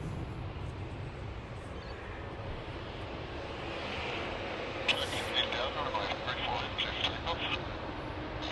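Aircraft taxiing at Sydney Airport, a steady distant jet engine rumble and hiss that swells slightly midway, with faint chatter now and then.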